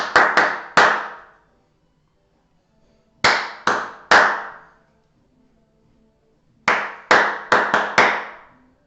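Rhythmic hand clapping in a children's singing lesson: three short bursts of claps separated by pauses, each a quick pattern of three to five sharp, close claps, with no talking.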